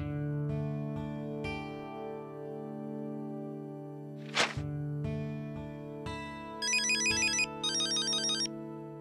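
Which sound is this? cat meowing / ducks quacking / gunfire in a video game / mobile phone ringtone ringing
mobile phone ringtone ringing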